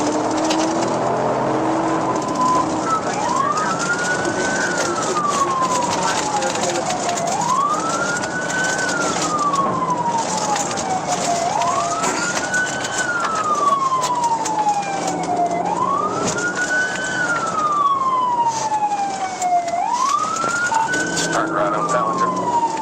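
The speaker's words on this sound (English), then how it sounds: "the officer activated the siren, signaling the start of a high-stakes pursuit" A police car siren wails during a high-speed pursuit, sweeping up and down in a slow repeating cycle about five times, loud and steady over road and engine noise, with faint chatter from a radio underneath.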